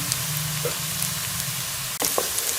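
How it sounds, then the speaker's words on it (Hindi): Garlic ginger paste fries with softened onions in a pan for bhindi, giving a soft, steady sizzle close by with a few light clinks of a stirring spoon, and no voices. "लहसुन अदरक का पेस्ट शामिल कर लिया तो इसे भी 1 से 2 मिनट जो है वो अच्छे तरीके से भून लेंगे खुशबू आने तक"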